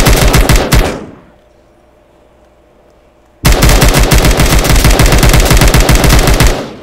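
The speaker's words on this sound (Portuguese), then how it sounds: "Essa daqui eu acho que é a Tech 9 que eu tô utilizando." Tech 9 gunfire from a GTA Trilogy mod with Modern Warfare 2019 weapon sounds: a loud rapid automatic burst, a pause of near silence, then another sustained rapid burst, close and dry.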